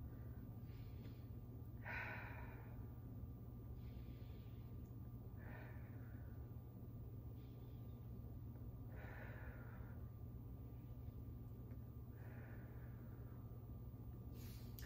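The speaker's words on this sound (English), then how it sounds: "take a couple deep breaths" Slow deep breaths during a yoga workout for the low back and core, about five soft inhales and exhales spaced a few seconds apart, quiet and close over a steady low hum.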